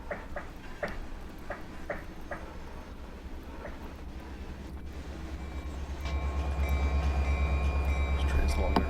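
A long train rolls along in the Run8 train simulator near Barstow, with rhythmic clicking wheel beats early on, then a louder steady rumble and a whining tone in the last few seconds.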